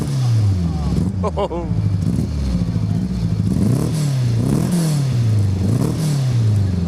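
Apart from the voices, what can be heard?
race car engine starting and revving at Silverstone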